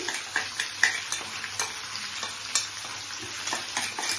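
Food frying in a pan sizzles steadily at moderate volume, punctuated by regular scraping strokes of a stirring utensil roughly every half second, close by with no voices.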